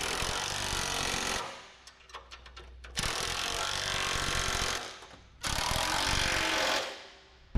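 Ratchet wrench tightening bolts on the front suspension mounts of a 1957 Chevy Bel Air, heard as three bursts of rapid metallic clicking separated by brief pauses, loud and close with no talking.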